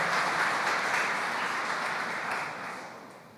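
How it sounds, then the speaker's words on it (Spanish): A church congregation applauds in a steady, dense wash of clapping during a sermon that gradually fades. "Damos un aplauso al Señor."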